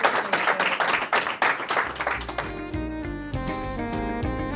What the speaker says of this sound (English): give Taylor another round of applause